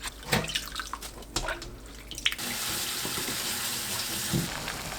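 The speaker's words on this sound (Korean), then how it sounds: "불린 가지를 헹궈주세요." Tap water runs over soaked dried eggplant during rinsing, starting as intermittent splashes and drips, then settling into a steady, close gush into the sink.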